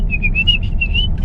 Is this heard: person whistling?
yes